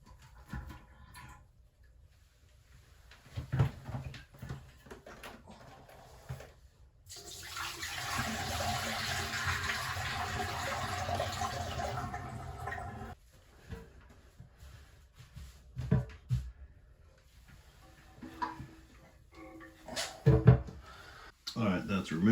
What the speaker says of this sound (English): that's removed and dumped in the sink, so no more water in there